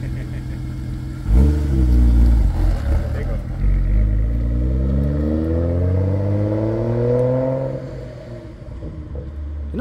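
A nearby truck engine with an exhaust leak revs up hard and then winds down through falling gears, with a rough, rattly exhaust note and a voice talking over it.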